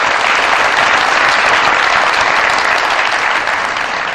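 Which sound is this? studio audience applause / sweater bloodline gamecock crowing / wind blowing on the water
studio audience applause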